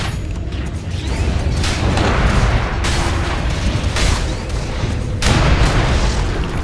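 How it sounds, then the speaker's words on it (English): A Dota 2 tower collapses amid loud, continuous battle rumble, with repeated heavy booms and crashing bursts layered over a dense low roar. "Dire's top tower has fallen."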